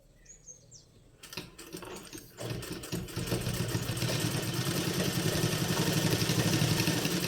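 A sewing machine double-stitches a decorative pant bottom, starting after a quiet moment and building into a steady, continuous whirring drone that grows louder and runs on without pause.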